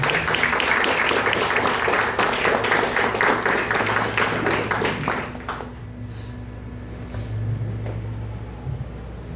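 A church congregation claps together at a communion service, a loud, dense run of applause that stops abruptly partway through, leaving quiet room tone with a faint low hum.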